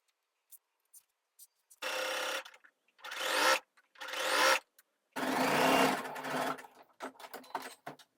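A sewing machine stitches the inside leg seam of knit pants in several bursts: a few quick single taps, then four longer runs of fast, close mechanical whirring separated by pauses, ending in short stop-start stitches.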